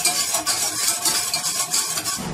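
A spoon stirs diet béchamel sauce in a pot over the heat, giving steady scraping swishes with a soft sizzling undertone, close and continuous with no voices.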